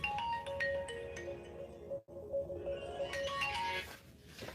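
A phone ringtone plays a repeating electronic melody at moderate volume, pausing briefly midway and then carrying on.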